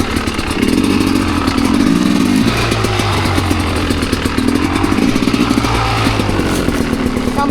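A dirt motorcycle climbing a steep rocky gully, its engine revving loudly and unevenly up close with bursts of throttle and clattering over rock throughout.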